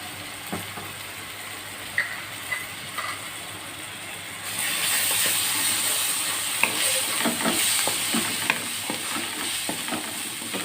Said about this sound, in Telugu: సో ఒక టూ మినిట్స్ ఇది ఫ్రై అవుతుంటాం